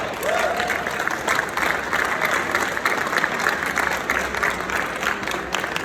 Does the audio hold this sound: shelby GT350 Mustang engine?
no